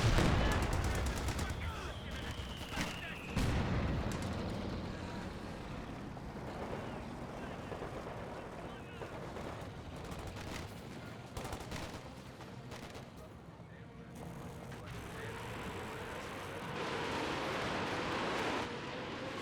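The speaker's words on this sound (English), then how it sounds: "There's another coordinated barrage somewhere." Coordinated artillery barrage in the video game Company of Heroes 2, with repeated explosions and gunfire crackling among battle noise at moderate loudness, under a commentator's voice.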